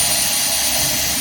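Loud, steady, close whirring roar from a DeWalt 20V Max XR brushless compact 1/2-inch drill running in drill mode, continuous without a break.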